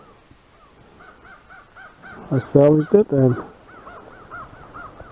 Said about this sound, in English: I don't think crows sound good.